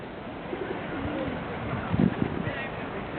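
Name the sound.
birds, pigeons cooing while being fed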